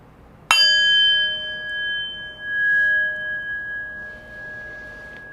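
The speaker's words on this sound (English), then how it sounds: "in just a moment I will ring the bell" A single meditation bell is struck once and rings out clear and sustained, its pure tone slowly fading over several seconds in a quiet room.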